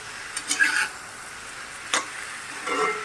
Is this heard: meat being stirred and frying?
yes